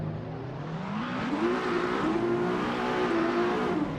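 Drift car in the RoDrift video game throwing a manji, a sustained engine drone that rises and wavers in pitch as the throttle is worked, with tire noise, loud and continuous.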